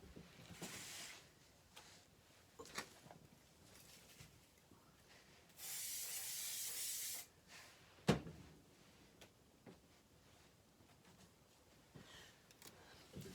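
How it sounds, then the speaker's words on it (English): A steady hiss of a craft mount spray adhesive can, about a second and a half long, amid quiet handling noises and a sharp knock. "I am going to spray the back of this one with my craft mount"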